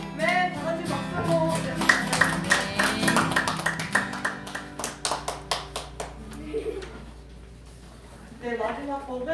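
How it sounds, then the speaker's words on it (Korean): A church congregation at a Sunday afternoon service claps together in a roughly even rhythm under singing and a voice, the claps thinning out and fading before talk resumes. "다 같이 박수로"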